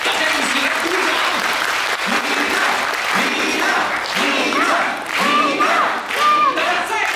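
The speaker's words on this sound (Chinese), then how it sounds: "大家一起来鼓掌。" An open-air audience at a Sing on Tour show in Beijing Universal Studios claps steadily for the singer, a loud, full crowd applause with some cheering, while a host's voice calls out repeatedly over the top.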